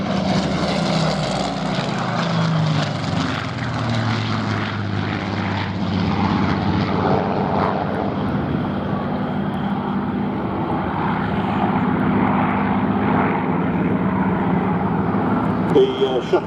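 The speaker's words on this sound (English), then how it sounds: "The Seafire powered by a Rolls-Royce Griffon engine" A Seafire fighter powered by a Rolls-Royce Griffon engine flies past at a naval aviation airshow. Its deep propeller drone holds steady and loud for the whole stretch, and voices can be heard talking under it.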